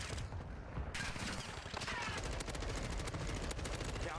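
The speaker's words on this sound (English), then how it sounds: "I'm getting sniped." Video-game gunfire from snipers and other weapons crackles in dense, rapid bursts, loud and continuous throughout, with a player's voice faintly under the shots.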